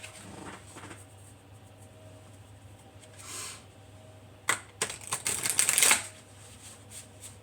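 Tarot cards from a large deck ruffle together in a quick riffle shuffle, a short burst of papery clatter following a softer shuffle earlier, over a low steady hum.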